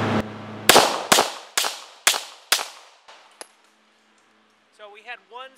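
Six sharp gunshots from a CZ 9mm pistol loaded with .38 SWC bullets ring out in a steady series at close range, each trailing off quickly, followed by a faint click, a pause, then brief voices.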